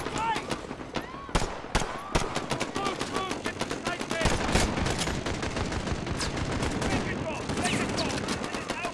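Rapid bursts of gunfire crackle through a Modern Warfare battle, sharp shots and automatic volleys scattered across the scene, mixed with voices and game noise.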